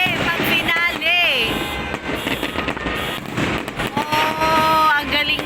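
A New Year 2026 fireworks finale near an SM mall crackles and booms steadily, loud and close, while excited voices talk and exclaim throughout.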